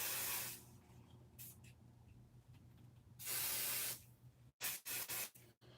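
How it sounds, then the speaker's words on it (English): Pixie spray from an aerosol can hisses onto a card in several bursts: one opening spray, a longer burst midway, then a quick run of short sharp puffs, with quiet gaps between. "now I'm going to grab some more pixie spray. I'm just going to spray this guy again."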